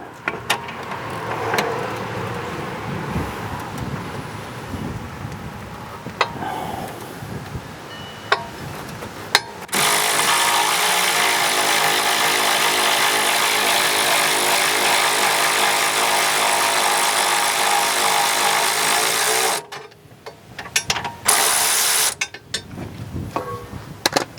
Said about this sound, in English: This one's a little tricky to get to, but I should be able to do it with my ratchet here.